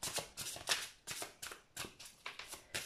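A deck of tarot cards is riffled and shuffled by hand in quick, close bursts, about seven or eight crisp flurries in under three seconds, with no talking.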